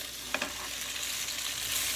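Penne pasta fries in melted butter in a pan, a soft, steady sizzling hiss with one faint clack near the start, fairly quiet and without speech.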